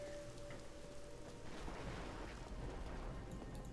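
Rain pours steadily beside a spooky manor in the video game Diablo 3, a dense hiss that is faint and continuous, with a low thunder rumble swelling beneath it.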